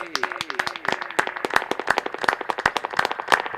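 Sharp, evenly spaced claps ring out in a steady rhythm for a performer on a live show, close and distinct, with a voice speaking briefly at the start.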